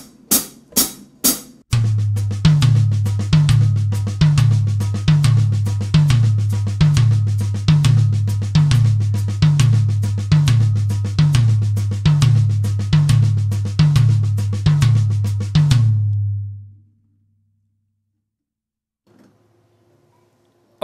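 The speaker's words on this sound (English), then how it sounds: "we're going to take this sticking and now apply those accents to the toms" Drum sextuplet sticking with the accents moved onto the toms, including a smaller tom on the left: a few sharp opening hits, then a steady repeating accented pattern for about fifteen seconds that stops, leaving near silence.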